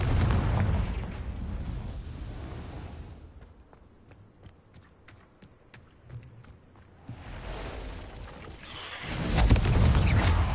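A Confringo spell blast in the Hogwarts Legacy video game, a loud booming explosion with a roaring rumble that fades, followed by crackling debris and another heavy surge.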